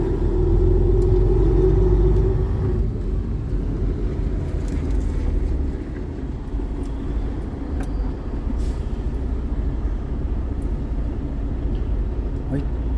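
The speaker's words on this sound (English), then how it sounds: "Driving the truck like a psycho, man." Semi truck driving on a winter road, a steady loud engine rumble and road drone continuing throughout, with talk inside the cab.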